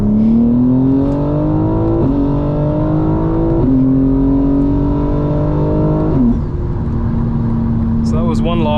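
A 900 hp 2025 BMW M4 Competition xDrive pulls hard from third gear at 3,500 rpm, its engine note climbing loud and continuous through several quick upshifts with brief dips between gears.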